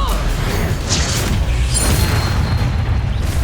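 A Bombarda spell explosion in Hogwarts Legacy, fought on hard difficulty, erupts as a loud, dense rumbling boom that fills the whole moment, with mechanical crackle layered over it.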